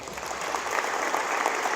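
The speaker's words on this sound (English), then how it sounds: "Let's have a big round of applause for Mallory Horvath." Applause for a student at Bellbrook High School's 2024 college signing ceremony: a dense, steady patter of clapping from an audience, continuous and fairly loud throughout.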